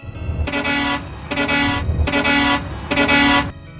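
Tanya's car sounds its horn on arrival: four loud, evenly spaced honks, each about half a second long, close by with no other sound between them.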